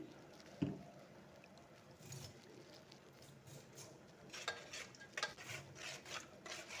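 Quiet scraping and swishing of a spoon working through puliyogare gojju mixed with oil and salt, in soft, irregular strokes against the pot, with no talking.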